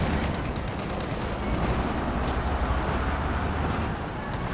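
Allied artillery fire in a Company of Heroes 2 battle keeps up a dense, continuous roar of rapid blasts and gunfire, loud and unbroken, with a voice faintly audible beneath.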